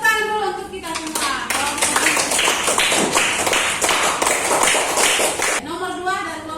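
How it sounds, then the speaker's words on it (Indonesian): A classroom of children bursts into a few seconds of dense, loud applause with tapping hands, with young voices talking just before and after. "tepuk tangan dulu untuk kita semua."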